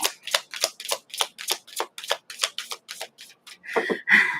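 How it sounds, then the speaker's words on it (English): Tarot cards being shuffled by hand, a run of about a dozen quick, crisp riffling bursts in a steady rhythm, ending in a couple of longer, louder shuffles. "One more shuffle."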